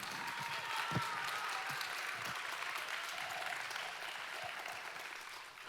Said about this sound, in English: She is deserving a big round of applause.